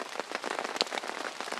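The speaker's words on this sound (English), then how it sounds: "as soon as I took out my camera, it starts raining again" Rain falling on a tarp in the wilderness, a soft steady patter of many close drops with a few louder individual taps.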